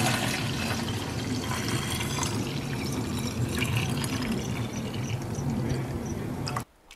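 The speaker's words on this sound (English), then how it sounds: "I'm going to strain for the second time." Liquid from melon seed soup streams steadily through a strainer, a continuous close splashing pour that stops abruptly at the end.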